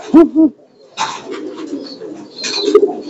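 Young pigeons coo near at hand in two short, low calls, followed by softer rustling and further murmuring coos with a few brief chirps.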